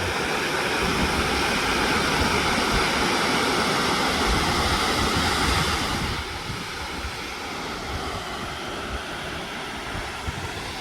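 Rushing water from a waterfall in the Otways forest, a broad steady roar that stays loud and constant throughout, with no voices over it.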